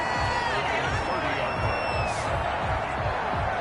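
A steady stadium crowd roar fills a simulated NFL game between the Cardinals and Bears, constant and moderately loud under a commentator's voice, with a brief whistle-like rise in the middle.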